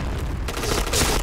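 A grenade explodes in the Point Blank shooter game, a loud booming burst that swells over about a second, heavy and sustained rather than a single sharp crack.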